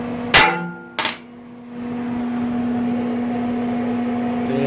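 A hammer strikes a transfer screw, a bolt ground to a point, to make a punch mark: two sharp, close metallic whacks about half a second apart, then a steady fan-like mechanical hum that continues.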